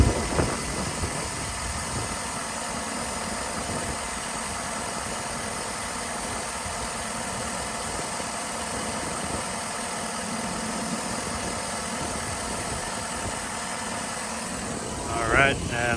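A 2012 Chevrolet Silverado 4X4 LT Z71 extended cab with 118,000 miles idling, a steady low engine drone heard close, with someone talking over it.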